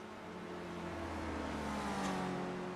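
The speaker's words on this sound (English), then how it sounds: "We got 45 cars driving around currently in qualifying." Race cars lapping Bathurst in a racing video game during qualifying, with a steady engine drone and tonal whine from several cars at moderate level and no talk.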